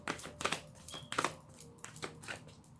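Soft papery flicks and riffles of tarot cards being shuffled, several quick bursts close by at an uneven pace, with no speech.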